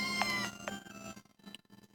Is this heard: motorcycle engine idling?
no